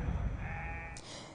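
Sheep grazing on grass at parc Habitail let out a drawn-out bleat over a low rumbling outdoor background, moderately close and fairly clear.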